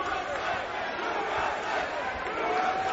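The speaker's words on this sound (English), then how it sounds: "The crowd chanting USA" Boxing arena crowd at the Tomasz Adamek versus Chad Dawson fight roars and chants in a continuous, reverberant wall of voices, with a commentator faintly talking underneath.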